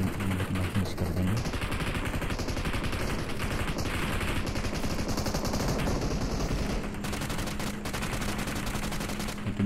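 Gunfire rattles in a BGMI battle royale fight. Dense, loud bursts of automatic and single shots keep going with almost no pause, and faint voices come through now and then.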